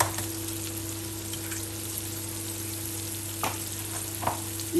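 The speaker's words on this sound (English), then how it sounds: "Here I'm making scrambled egg, and I have tomatoes, onions, green chilies and chili flakes and a bit of salt in there" Eggs sizzling in a pan with tomatoes, onions, green chilies, chili flakes and salt for scrambled eggs; a steady close frying hiss with occasional soft stirring scrapes and a constant low hum.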